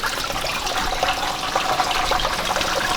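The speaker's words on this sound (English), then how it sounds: "Pouring some water to flush it out." Water running through a car radiator from a hose during a coolant flush, a steady, hissing rush of splashing liquid that stays loud and continuous throughout.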